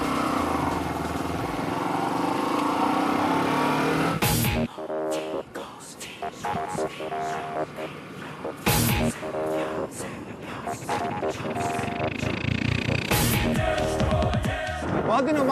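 Bajaj Discover 100cc motorcycle being ridden on the road, its small engine droning steadily up close with gear shifts and brief surges, over a rush of wind.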